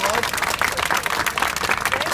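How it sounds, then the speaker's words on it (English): An audience at a birthday honoring ceremony applauds the Manhattan Borough President, steady dense clapping throughout with a voice faintly over it. "Let's give her a big round of applause"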